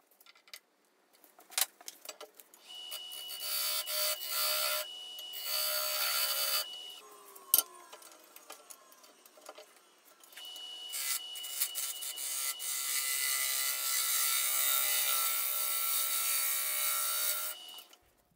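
A new gouge cuts a spalted beech bowl on a wood lathe, giving long stretches of steady, close hissing shaving noise, with a quieter gap in the middle marked by a few sharp knocks and scrapes; no talking.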